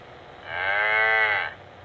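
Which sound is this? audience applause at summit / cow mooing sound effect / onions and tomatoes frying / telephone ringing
cow mooing sound effect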